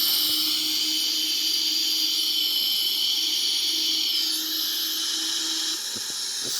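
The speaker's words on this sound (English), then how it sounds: "So you will see the right wing engine start now, start spinning." Right wing engine of a Boeing 777-300ER spooling up in a flight simulator game, a steady high-pitched turbine whine over a low hum, loud and continuous with no talk.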